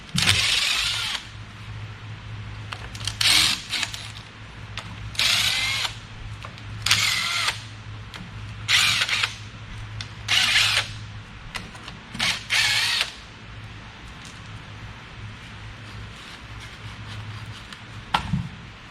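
Repeated bursts from a power tool as it zips half-inch bolts off an engine in a junkyard teardown: about nine loud whirring runs of one to two seconds, separated by short pauses over a steady low hum.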